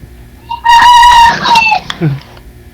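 A rooster crows loudly nearby, a drawn-out strained call that breaks off, followed by a brief lower squawk.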